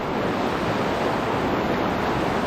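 Wind blows steadily beside a fast-flowing river during fishing, a constant dense rush of noise with no breaks and no voices.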